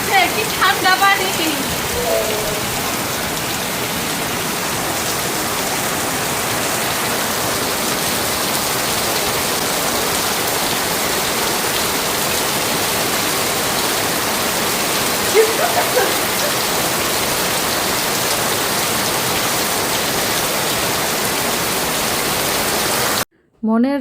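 Heavy rain pours down in a dense, steady hiss close by, unbroken for most of the stretch before stopping abruptly at the very end.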